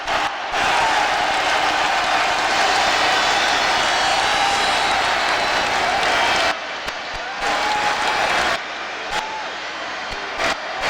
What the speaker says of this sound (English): The crowd is standing, screaming.